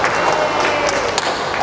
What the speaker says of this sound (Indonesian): dan tepuk tangan juga untuk kita semua ya.